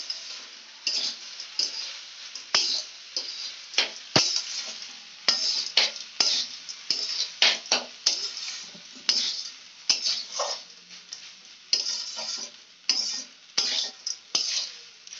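Home-made fried rice with peas and vegetables being stir-fried in a pan, with a rapid series of close, sharp spatula scrapes and clatters over a soft sizzle, no talking.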